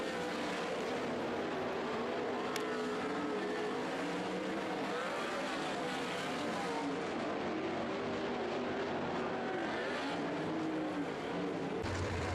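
Modified race cars lap an oval track in a heat race, their engines a continuous blended drone that shifts in pitch as the pack runs down the back stretch, heard from a distance with a sharp click near the end.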